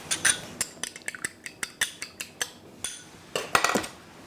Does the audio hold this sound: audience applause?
no